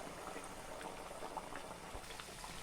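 Ragi and jaggery burelu deep-fry in hot oil, a faint continuous bubbling and popping close by with a few small bursts and no talking.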